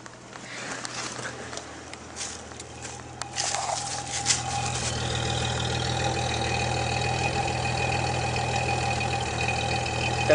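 A 1993 Ford Tempo's engine idles with a steady, deep, continuous drone that swells slightly a few seconds in and then holds even and moderately loud to the end, heard up close.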